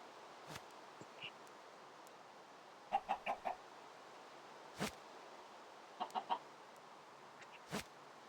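Minecraft chickens clucking in short bursts, a few soft pairs and triplets of clucks spread over quiet game ambience with occasional faint clicks.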